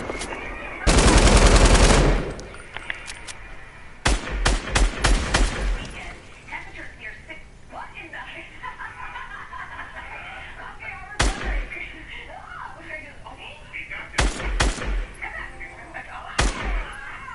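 Fortnite gunfire: a dense sustained burst early on, a rapid string of shots a few seconds later, then isolated sharp shots, with talking and game sounds between.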